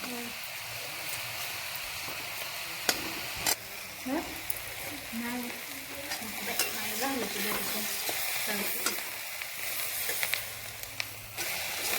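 Red chili chutney frying in oil and being stirred, a steady sizzle with scraping stirs and utensil knocks, while someone talks intermittently over it.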